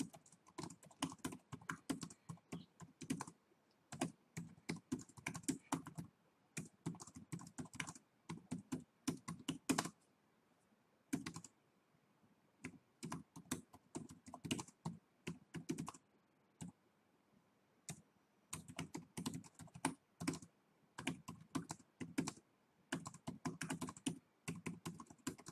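Someone types on a computer keyboard in a presentation program, making close, crisp key clicks in rapid bursts separated by short pauses and one longer silent stretch, with no voices.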